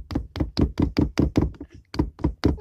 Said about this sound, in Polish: Ja tak pukam.